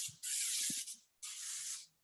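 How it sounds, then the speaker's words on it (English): Hair texture spray comes from a can in two short, close hissing bursts, each lasting under a second, with a little faint handling noise between them. "Add a little bit of texture spray."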